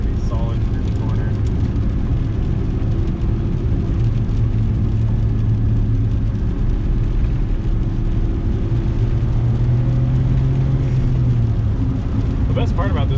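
A 1993 Suzuki Alto Works RS-R turbo with all-wheel drive and a five-speed manual drives steadily, its engine giving a constant droning hum from inside the cabin, with the pitch shifting slightly as it moves through a corner.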